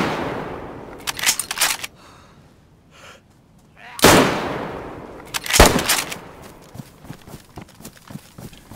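Gunfire in a video game comes in a rattling burst, a heavy boom and another crackling volley, with players talking over it.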